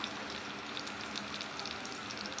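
Coriander seeds frying in hot oil in a pan, a steady even sizzle with faint crackles, close and moderately quiet, no talking.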